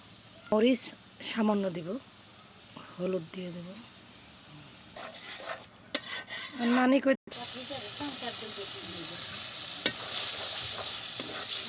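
Ginger, cumin, onion and garlic pastes sizzling as they are stir-fried into a masala in a pan for a bottle gourd and prawn curry, a steady frying hiss with scraping stirs, under frequent close speech.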